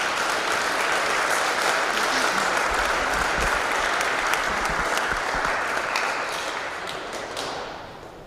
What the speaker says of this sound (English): Let's give all our teams, players, and coaches a round of applause